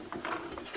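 Locking metal ammo can lid comes off with a short clatter of clicks and metallic rattling, close and fairly quiet, lasting under a second.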